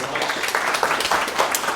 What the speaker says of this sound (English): Big round of applause for all of them, guys.